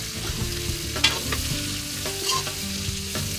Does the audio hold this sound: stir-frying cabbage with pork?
yes